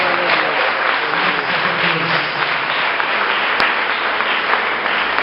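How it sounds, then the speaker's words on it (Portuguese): Steady, dense applause fills a church as the congregation claps during a Portuguese-language sermon, a continuous, even roar of many hands that stays at one level, slightly muffled, with a single sharp click partway through. "Aplaude o Senhor."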